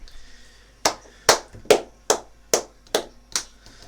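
During a tabletop Dungeons & Dragons game, a person claps their hands to imitate a beholder clapping: seven sharp, crisp claps in a steady, evenly spaced rhythm, close and clear over a quiet background.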